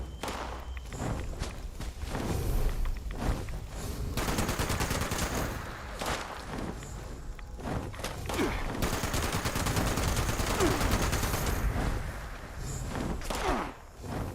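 Steady gunfire from Fallout 76, dense repeated shots and bursts crackling continuously for the whole stretch, loud and close, mixed with footsteps and thuds.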